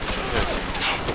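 An automated turret fires in the game Bioshock, a dense, continuous rattle of rapid gunfire filling the short moment, with a voice speaking over it.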